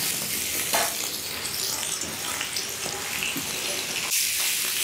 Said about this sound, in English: I'm going to start deep frying these eggs.